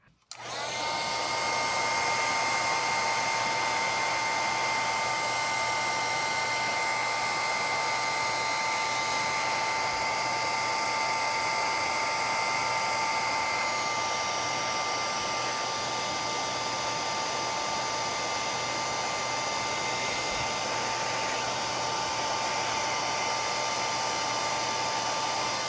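A heat tool blows hot air onto a sticker embellishment, a steady, loud, unbroken whoosh with a faint whine that holds for the whole stretch of nearly half a minute, with no talking over it.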